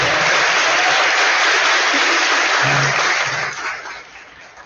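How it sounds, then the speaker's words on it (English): An audience applauds a singer with the Nuestro Tiempo Latin Jazz Youth Ensemble at a holiday performance: loud, dense, sustained clapping that tapers off toward the end. "Please, another round of applause for her."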